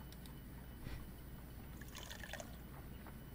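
Liquid pouring in a Sherlock Holmes detective game, a faint low trickle and splash running under a steady background hum, with brief brighter dribbles near the middle and end.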